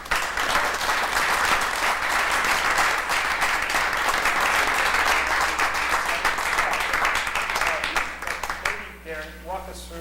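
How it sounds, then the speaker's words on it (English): Sustained, loud applause from a council meeting audience honoring a Delaware State University band, steady clapping for about nine seconds before tapering off as a voice begins to speak. "let's have a round of applause"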